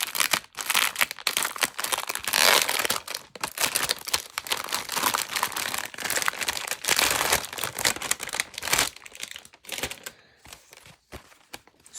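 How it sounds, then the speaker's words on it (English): Dry plastic and paper packaging around secondhand thrift-store finds, including a chipboard piece, rustles and crinkles almost nonstop, close and fairly loud, with bursts of crackling and brief pauses that thin out near the end. "Again, sorry for the rustling."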